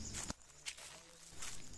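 Faint footsteps crunch through dry sal leaves on a forest path, a few soft crackling treads spaced unevenly in a quiet woodland setting.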